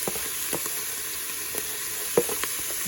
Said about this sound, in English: So I'm adding in our peppers and our green onions, and our thyme